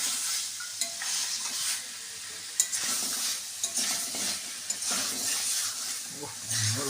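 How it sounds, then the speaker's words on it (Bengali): Chicken pieces for dahi chicken sizzle in a pan while being stirred, a continuous bright frying hiss broken by occasional scrapes and spatula knocks, close and unvoiced. "ভালো করে কষিয়ে নিতে হবে মাংসটা।"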